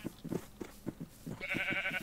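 Minecraft sheep bleat in a short, wavering cry that follows a few soft, thumping game sounds, fairly close and clear, with no talk.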